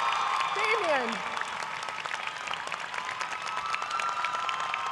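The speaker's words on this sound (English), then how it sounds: "Please give Damien a round of applause" Applause from the audience at a university's 100th annual commencement ceremony honoring a master's graduate in mental health counseling, steady clapping that fills the whole stretch while a voice rises briefly over it near the start.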